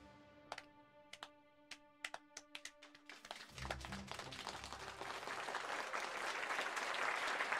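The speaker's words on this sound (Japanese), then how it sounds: "一部の貴族以外はちゃんと拍手してるね。" Crowd of nobles applauding in the video game Sword Art Online Alicization Lycoris: a few scattered isolated claps at first, then swelling into a full, steady round of applause that grows louder toward the end.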